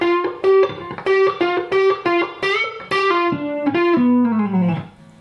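An electric guitar plays a riff slowly with effects and light distortion. A steady run of picked notes ends in a bending, sliding phrase that fades out, and no one speaks.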